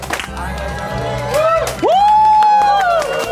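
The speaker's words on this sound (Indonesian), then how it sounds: "Kita tepuk tangan tambah berlama-lama lagi." A studio audience on an Indonesian variety show claps and cheers as a guest is called on, a steady crowd wash that is partly masked by a bright sustained tone or whoop rising over it.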